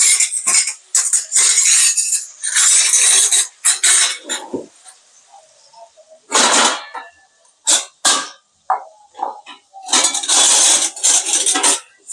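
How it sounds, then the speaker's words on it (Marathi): Tomatoes being sautéed in a pan for a Maharashtrian dal dish, with loud bursts of sizzling and metal spatula scraping against the pan that start and stop irregularly, separated by short near-silent gaps. "टोमॅटो छान परतून घेऊ आपण"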